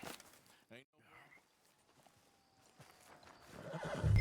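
Horse in the video game Red Dead Redemption 2: hooves clip-clop and a whinny sound, faint and sparse at first, then growing louder and closer near the end.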